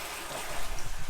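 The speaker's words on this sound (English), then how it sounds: "So now I opened it all the way and test flush." A toilet is test-flushed with its water supply valve opened all the way, giving a rushing, gurgling wash of water that swells and pulses toward the end of the short burst, heard close with no talking.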